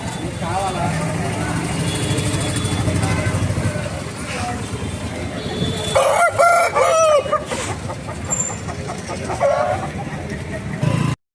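Roosters crow repeatedly and country chickens cluck at a busy poultry market in Eluru, with loud crowing bursts in the second half over steady crowd and traffic noise.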